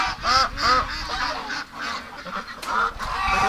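Ducks call repeatedly at close range, a series of loud nasal honking quacks in irregular bursts with short pauses between them.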